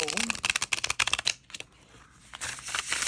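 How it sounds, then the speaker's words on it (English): A tarot card deck of thin cardstock riffled and shuffled by hand, with quick crisp flutters of cards in short bursts close to the microphone, a pause, then more shuffling, under a person talking. "So it shuffles great, much like any deck of playing cards would."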